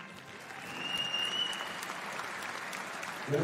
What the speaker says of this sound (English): Plenty of applause, plenty of appreciation.